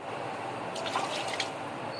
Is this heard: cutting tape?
no